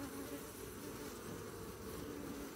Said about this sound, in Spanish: vamos a retirar un poco de abeja